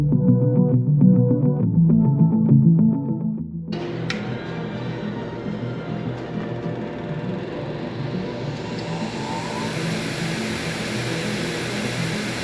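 A bench grinder cleaning up valves from a Toyota 2JZ-GE engine rebuild comes in after a few seconds of other tonal sound, then whirs steadily and continuously with a broad, rushing hiss.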